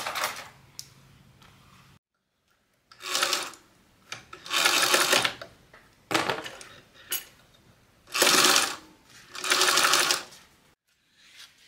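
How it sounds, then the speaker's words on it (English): A sewing machine stitches fabric at a 3/8 inch seam allowance in several close, loud bursts of rapid mechanical whirring separated by short pauses. "we're gonna get this sewn together at 3/8 of an inch seam allowance"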